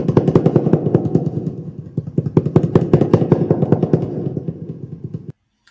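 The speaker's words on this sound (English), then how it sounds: "And then for the tapping on the desk, it sounds like this." Rapid, irregular tapping on a desk, dense clusters of close knocks with a dull, boomy resonance, continuing for about five seconds before cutting off.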